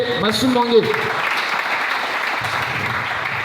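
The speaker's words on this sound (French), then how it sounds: "Est-ce qu'on peut acclamer le Seigneur?" A church congregation at a Sunday service breaks into sustained, loud applause acclaiming the Lord, with voices and a brief vocal sound over the clapping.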